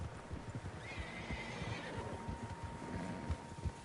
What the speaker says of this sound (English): Horses, quite a few of them.